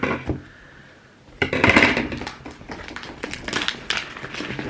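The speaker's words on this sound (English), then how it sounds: "I'm gonna cut it open" A hot sauce shipping package is sliced open by hand, with a short scrape, a quiet pause, then a burst of close crinkling and rustling of cardboard and paper that keeps going in uneven scratchy bursts.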